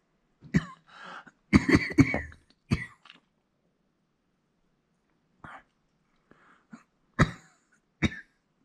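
Several dry coughs and throat clearings from wildfire smoke filling a valley come in bursts, some clustered close together, with quiet pauses between them; close and fairly loud.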